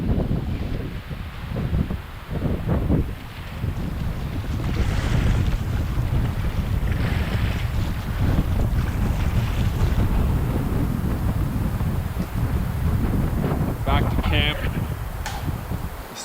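Strong wind roars continuously around a wilderness fishing camp, gusting and buffeting the microphone with a dense low rumble, with faint water and occasional knocks beneath it.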